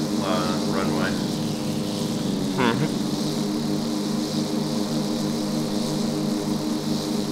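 An aircraft in flight in ARMA 2, with a steady engine and propeller drone sustained throughout at close range, and brief voice chatter over it early on.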